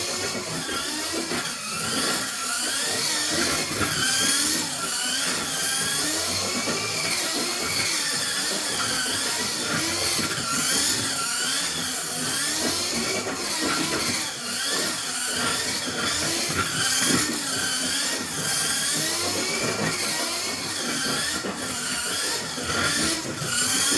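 A Kyosho Mini-Z Ferrari FXX RC car on a chassis free of its old right-turn servo fault runs laps on a track, its tiny electric motor whining continuously and rising and falling with speed, loud and close with no talk.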